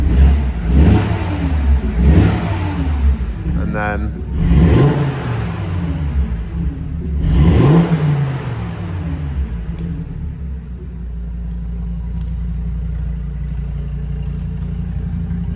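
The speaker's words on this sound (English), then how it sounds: "Lovely intake noise." An Audi TT RS engine revs hard three times in quick succession, a loud, close intake roar rising and falling before it settles into a steady idle rumble, with a brief spoken word.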